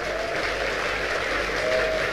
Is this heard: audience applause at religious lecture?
yes